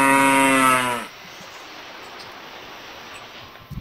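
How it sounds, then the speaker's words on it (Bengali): A cow in a 3D animal video game gives one loud, drawn-out moo lasting about a second, followed by quiet low background noise and a couple of faint clicks at the end. "গরুটি তো ডাকতেছে।"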